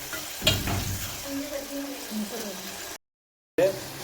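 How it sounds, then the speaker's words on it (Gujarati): Tomatoes frying in a tempering for dal thetho, with a soft sizzle and stirring scrapes. A sharp clatter comes early, and a short silent gap falls near the end. "આપણે દાળ વઘારવાનું ચાલુ છે અને આપણે વઘારની અંદર ટમેટા નાખી દીધા છે"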